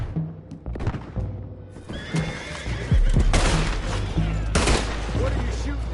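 Ambush gunfire in Red Dead Redemption 2, several sharp shots cracking between horse whinnies and hoofbeats, a heavy volley building toward the end, with voices shouting briefly.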